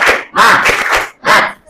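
A classroom group performs a rhythmic spirit clap, several short bursts of clapping mixed with chanted voices, with brief pauses between rounds.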